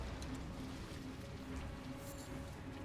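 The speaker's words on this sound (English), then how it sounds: "He's doing the spooky rain." Steady, faint, even rain hiss with scattered patter fills the background of the Convergence mod video game scene, continuous and without voices.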